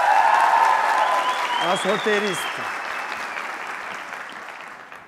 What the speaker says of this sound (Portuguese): Senhoras e senhores, salve de palmas